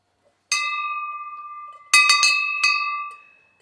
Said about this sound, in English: These are the bells that the monks ring in the streets as they solicit alms.